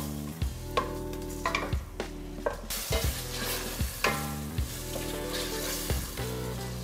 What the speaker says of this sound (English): So we'll start by putting the bacon in, and I'm gonna add in some olive oil, and then we'll give it a stir.